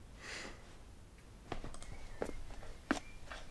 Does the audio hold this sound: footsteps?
yes